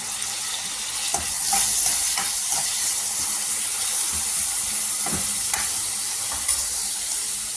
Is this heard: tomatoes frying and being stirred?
yes